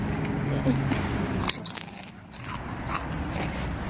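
Crisp crunching bites of a snack, several close crackly crunches, with a person's voice and laughter mixed in.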